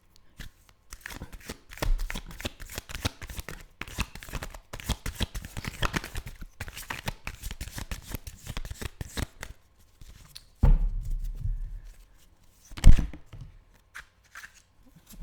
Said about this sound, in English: Let me pull a couple of more cards.